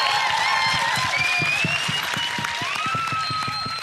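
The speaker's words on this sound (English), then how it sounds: "can we just have one more big round of applause" A big round of applause at the close of an evening event: continuous clapping from a crowd, with bright sustained tones running over it, steady and loud throughout.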